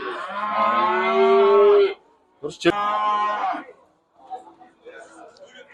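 A cow at a Kyzylorda livestock bazaar gives a loud, long harmonic moo, then a second shorter bellow after a sharp knock, with a person speaking briefly nearby.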